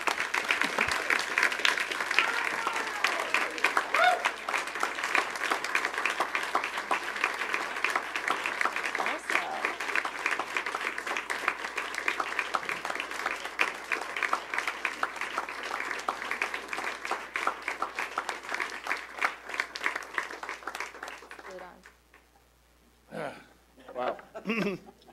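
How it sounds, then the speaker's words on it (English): Sustained applause from the audience at a Brisbane city council meeting, steady and dense for about twenty seconds before fading out, followed by a few brief sounds. "If you join me in a round of applause."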